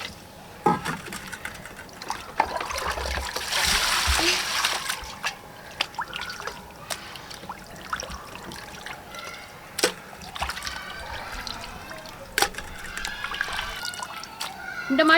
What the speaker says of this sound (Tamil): ஃபஸ்ட்டு நம்ம மட்டனை வந்து நல்லா கழுவிடலாம்.